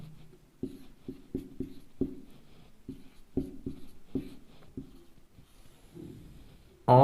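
Chalk or marker tapping and scratching on a board during a maths lesson, a series of short sharp strokes in an uneven rhythm, close and fairly clear with no talking.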